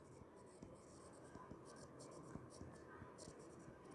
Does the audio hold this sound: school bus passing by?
no